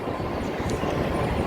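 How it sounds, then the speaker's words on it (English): Downtown Chicago train passes out of sight, a steady low rumble and rolling rail noise holding at even loudness throughout, with a brief faint high squeal partway through. "Another train, you can hear it, but you don't see it because it's covered."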